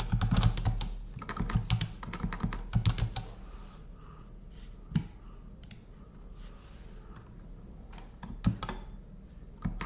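Keys clatter on a computer keyboard in quick, dense runs of typing, close and clear, then slow into scattered keystrokes with short pauses.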